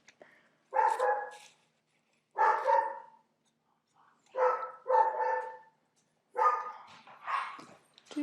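A pet dog barks in repeated bursts, single and double barks spaced by short silences, fairly close and loud with no talk over them.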